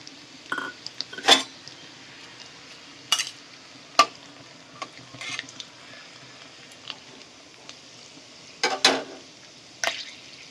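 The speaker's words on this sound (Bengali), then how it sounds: "ফোড়নে দিয়ে দেবো তেজপাতা, শুকনো লঙ্কা, গোটা গরম মশলা" Bay leaves, dried red chillies and whole garam masala hitting hot mustard oil in a dhaba-style chicken tadka, giving scattered crackles and spoon-against-pan clinks over a faint steady sizzle, with no voice.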